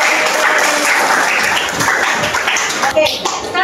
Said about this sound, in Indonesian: tepuk tangan yuk